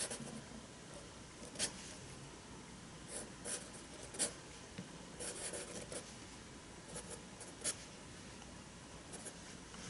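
A Sharpie Art Pen writes on paper, giving a soft, continuous scratchy rubbing broken by short, sharper strokes, close and quiet with no talk.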